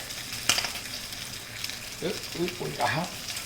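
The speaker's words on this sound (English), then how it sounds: "Now it's time for me to turn this Spam over" Slices of Spam fry in a pan for Spam musubi, giving a soft continuous sizzle with a few sharper pops, while someone talks over it.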